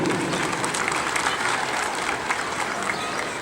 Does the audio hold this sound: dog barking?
no